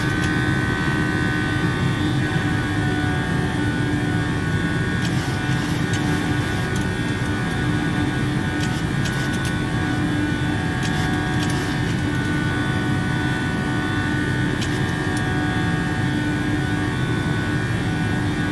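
PMDG Boeing 737-800 jet engines at climb thrust in a flight simulator game, a loud, continuous roar with a steady whine that holds evenly throughout, with faint clicks now and then.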